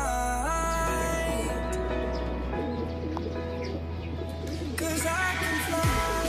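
Racing pigeons coo at their loft, soft repeated calls and a few chirps over a steady background hum, with no one talking.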